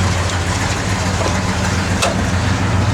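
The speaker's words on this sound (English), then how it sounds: "Go ahead, you rev it so you can see the tach working." A 1963 Chevrolet Nova convertible engine running loud and close with a steady deep rumble and a slight rise in pitch, as if revved, with faint talk under it.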